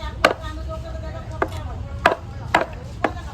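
Bolar beans are chopped by hand on a board with five sharp, close knife strikes at uneven intervals, over a low background hum with no talking.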